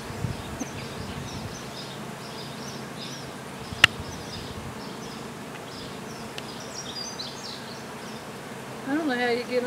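Honey bees buzzing around an open hive during a beekeeping inspection, a constant faint hum of many insects nearby with occasional clicks and handling noises, and brief voices near the start and end.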